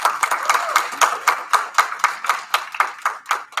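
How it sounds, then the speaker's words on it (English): A small audience at a spring public debate event claps for students, a light, uneven patter of individual hand claps in quick rhythm, moderately close and without talk. "So give them a round of applause."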